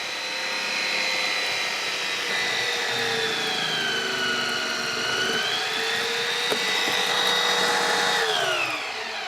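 A kitchen machine fitted with a slicing blade shreds cabbage finely, giving a steady, loud motor whine with shifting tones that holds throughout and never lets up.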